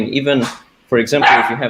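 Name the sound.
dog barking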